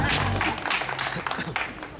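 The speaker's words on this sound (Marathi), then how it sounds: "अजून टाळ्या असल्या पाहिजे." A stage show audience breaks into brief, loud applause, dense clapping mixed with voices and talk, lasting only a couple of seconds.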